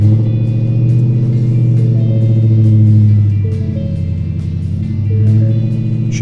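A 2017 Ford Mustang GT fastback with a 5.0L V8 and six-speed manual idles steadily, its deep, loud rumble swelling slightly with light revs throughout.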